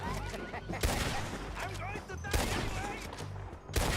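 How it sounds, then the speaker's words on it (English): Rapid gunfire from a Red Dead Redemption 2 shootout crackles in dense bursts throughout, layered with game sounds and speech-like voices over a loud, busy mix. "Пока я тут отстреливаюсь."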